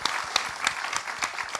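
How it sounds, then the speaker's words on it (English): Audience applause at a climate justice forum, a short burst of steady, brisk clapping from a moderate crowd. "I think that requires a round of applause."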